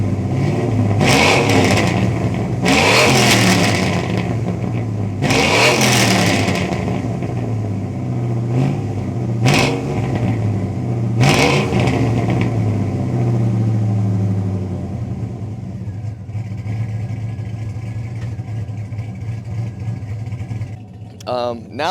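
A cammed 6.0 Chevrolet Silverado with an exhaust cutout is revved in repeated loud bursts over lumpy idle, then settles into a rough, choppy idle for the final stretch.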